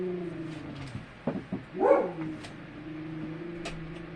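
A dog nearby lets out a short burst of a few sharp barks and yips, then a brief whimpering whine, before things settle into a quiet background hum.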